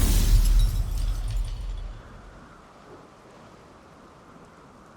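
A thunderstorm with rain in The Witcher 3 opens on a loud rumble of thunder over heavy rainfall, which fades after about two seconds into a soft, steady patter.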